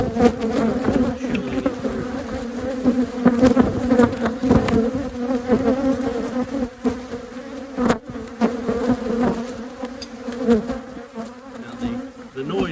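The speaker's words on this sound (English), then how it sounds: "A lot of bees." Honeybees swarm around an open hive during an inspection, a dense, close, steady buzzing with individual bees droning louder as they fly past, plus occasional handling clicks and rustles.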